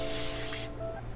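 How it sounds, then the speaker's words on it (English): Continuous mist spray bottle releasing a steady hiss of water mist for hair for about two-thirds of a second, close and fairly quiet, then cutting off to a low hum. "You get a continuous stream of water into your hair to help with moisture."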